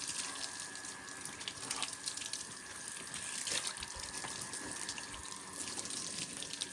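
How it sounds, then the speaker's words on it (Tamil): Water sprayed over a Royal Enfield motorcycle during a home wash: a steady, faint hiss and patter of spray striking metal and paint, with small splashy bursts and drips, continuous and without talk. "ஃபஸ்ட்டு இந்த மாதிரி எல்லா இடத்துலையும் வண்டி ஃபுல்லாக தண்ணி அடிச்சிருங்க."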